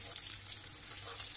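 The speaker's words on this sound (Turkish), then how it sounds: "Bakın görüyorsunuz çok da güzel kızarıyorlar." Cauliflower pieces fry in oil in a pan, giving a steady, close, continuous sizzle with soft crackling throughout and no voices.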